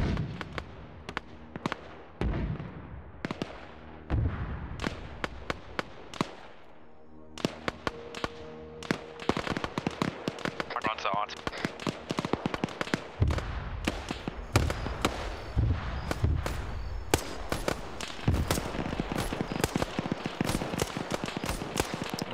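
Rapid explosive bursts and thumps of mortar fire and impacts in a military video game, dense and loud, with overlapping booms and cracks continuing throughout.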